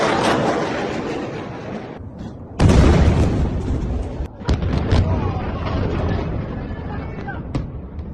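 Missile strikes exploding in Tel Aviv, Israel during the Iran-Israel war, a dense roar of blasts and rumbling booms with one sharp heavy hit, set against continuous noise and background voices.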